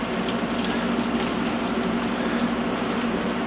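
Mandazi dough frying in hot oil in a crowded pan, a dense, steady crackling sizzle that holds at an even level throughout, no voices.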